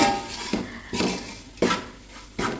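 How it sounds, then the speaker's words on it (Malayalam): Chicken pickle being stirred and sautéed in a pan, with four distinct scraping, clattering spoon strokes against the metal at a steady rhythm, close and fairly loud, no talking. "ഇതുപോലെ നല്ലതായിട്ട് വഴറ്റിയെടുക്കണം കേട്ടോ."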